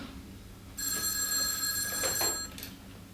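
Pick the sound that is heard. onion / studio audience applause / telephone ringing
telephone ringing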